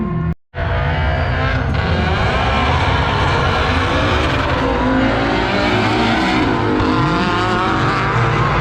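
A drifting car screams through a long, loud tire squeal with roaring engine revs, holding nearly continuously apart from a brief drop near the start.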